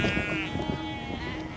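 A sheep bleats loudly and close in open hill country, one drawn-out wavering call lasting over a second against a faint outdoor background.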